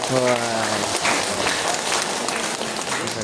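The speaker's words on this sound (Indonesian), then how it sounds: "kita tepuk tangan semua kan" An audience at a scout leaders' orientation session claps together, a broad wash of applause with a voice speaking over it at the start.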